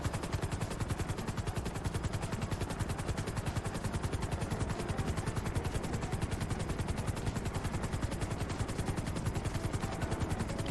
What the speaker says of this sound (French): c'est normal parce qu'il y a le bruit de l'hélico